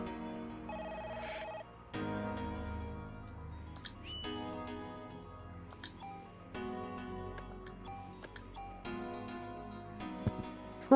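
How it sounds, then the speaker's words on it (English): A telephone rings in the PS1 game Parasite Eve, aboard a cruise ship: repeated electronic ring bursts over steady game music, with no talking. "Ah, a phone."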